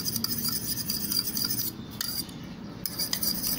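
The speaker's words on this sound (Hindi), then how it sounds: "अब एक कांटे की मदद से इसको मिक्स करेंगे" A fork mixes coating in a bowl with rapid, continuous metallic clinks and scrapes against the bowl, fairly loud and close, with a brief lighter moment partway through.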